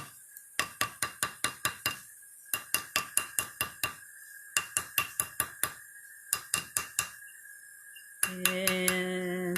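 A rawhide hammer beats a metal clay piece on a hoop mandrel in repeated quick bursts of sharp clinking blows, about five or six strikes per burst with short pauses between, close and clear, then a steadier ringing tone at the end.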